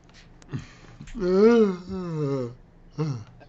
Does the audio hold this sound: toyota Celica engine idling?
no